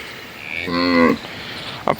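A buffalo's deep, drawn-out moo of about half a second rises at a livestock sale, followed by quiet and a brief thump, with no talk over it.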